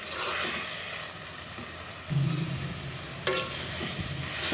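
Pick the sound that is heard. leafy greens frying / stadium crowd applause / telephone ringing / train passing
leafy greens frying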